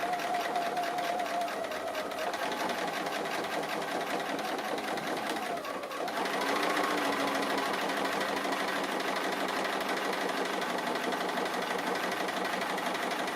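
A sewing machine stitching around the leaves and apples of a quilted tree appliqué runs in a steady, fast mechanical whir throughout, pausing briefly midway before resuming at a constant pace, close and clear without speech.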